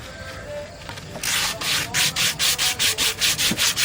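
Wooden bowl being sanded by hand with 80 grit sandpaper, a soft rub at first that turns into a steady rhythmic rasping of back-and-forth strokes, close and even.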